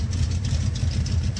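A deep built 304 V8 engine in a 1974 Jeep CJ5 idles through a full exhaust with a rough, throbbing burble, steady and close.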